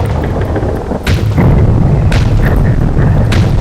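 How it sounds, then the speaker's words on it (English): Fireworks in the video game The Legend of Zelda: Majora's Mask burst in a loud, steady series of booming explosions, three sharp cracks standing out over a continuous low rumble, with no voices. "Fireworks!"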